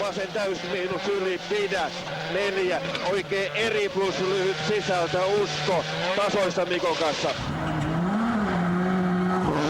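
A Ford rally car is driven flat out on a Rally Finland stage in the 2005 WRC, its engine rising and falling through rapid gear changes, close and loud, with a commentator talking over it.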